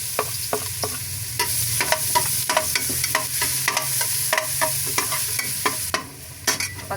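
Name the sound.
sautéing garlic in a pan for lomi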